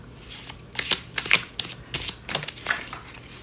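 Tarot cards being shuffled by hand on a floor, heard as a quick run of crisp, papery riffles and taps of varying loudness, close up with no talking.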